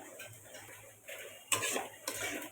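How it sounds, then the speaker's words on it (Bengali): Chicken and egg are stirred and lightly fried together in a pan for chicken tarka, giving a quiet, soft sizzle with louder bursts of scraping and utensil clatter near the end. "মাংসের সাথে ডিমটাকেও আমি একটু হালকা কষিয়ে নেব"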